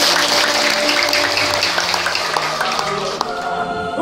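A crowd claps steadily, fairly loud, with some voices and a tonal hum mixed underneath, at an outdoor gathering for a regent's visit to Longpada, a remote village in Sungai Tubu district, Malinau, Indonesia.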